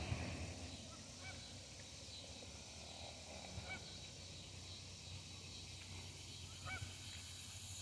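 Geese honking over water at sunset, scattered faint honks from a small flock spread across the stretch, distant and soft over steady low background noise.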